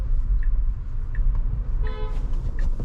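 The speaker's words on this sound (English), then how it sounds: "Getting honked at" A car horn toots several short times at a Tesla during a lane change, spaced irregularly, over a steady low rumble of traffic and engine noise.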